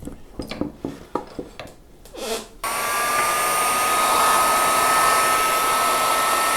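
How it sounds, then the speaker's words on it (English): A few knocks and clatters from handling a Blackguard Esquire guitar body give way to a heat gun switching on, a loud, steady blowing whir with a faint whine that runs to the end. "I'll just clean this little bit of paint and stuff out with a heat gun"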